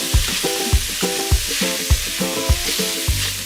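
Mild Italian ground sausage and onion sizzle in oil in an Instant Pot, a steady close frying hiss with regular scraping stirs about every half second.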